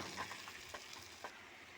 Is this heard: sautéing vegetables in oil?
yes